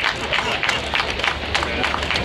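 Applause at a horse racing award ceremony at the Hipódromo Argentino de Palermo: a crowd claps in a dense, steady patter, moderately loud and continuous.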